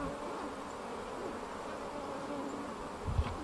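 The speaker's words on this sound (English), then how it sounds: "there's a bee there's like 3 of them just stinging the microphone" Several bees buzz steadily right against a microphone's wind cover outdoors, a continuous close insect drone with a brief louder bump near the end.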